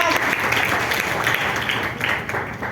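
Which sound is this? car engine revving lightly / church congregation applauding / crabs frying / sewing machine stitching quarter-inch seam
church congregation applauding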